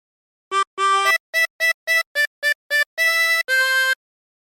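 A chromatic harmonica plays the opening phrase of PewDiePie's LWIAY theme: a string of short, clean reedy notes in a bouncy rhythm, closing on two longer held tones, solo and close with silence between notes.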